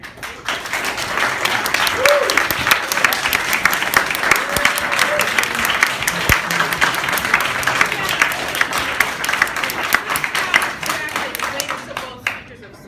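Audience at a Democratic club meeting in Lakewood applauds steadily for several seconds, a dense patter of many hands clapping in a room, with a voice speaking briefly over it.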